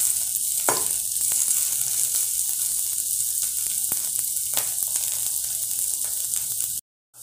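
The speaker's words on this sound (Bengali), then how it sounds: "বেশি ভাজবো না, একটু কাঁচা ভাবটা কাটিয়ে দেবো।" Mixed vegetables for Manchurian fry lightly in a pan, a steady close sizzle with scattered stirring scrapes and clicks, then a sudden cutoff near the end.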